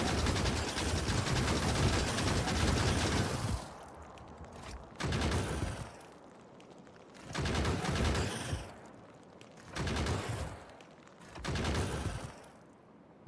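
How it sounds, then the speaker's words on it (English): An automated gun turret in Factorio fires at approaching enemies: one long sustained burst of rapid gunfire, then four shorter bursts separated by brief pauses. "So now you just lure them in and let the turret do the work."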